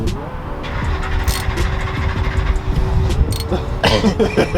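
A Ford 5.4 Triton V8 engine rumbles steadily up close, with a loud low drone and brief rises in revs and some mechanical clatter.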